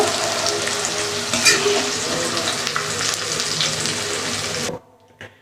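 Fried onions are scooped out of a pan of hot oil in a Bengali biryani kitchen, with a dense, loud sizzle and scraping close by for several seconds that then drops away to near silence with a couple of faint clicks.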